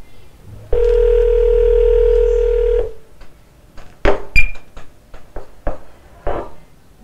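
A steady, loud telephone line tone from an automated phone information service sounds for about two seconds. Several sharp clicks and short beeps follow.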